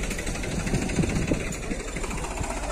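A New Holland 3600-2 50 HP tractor with a turbo fitted runs steadily during testing, its engine a dense, even, close diesel drone with a faint rhythmic knock throughout.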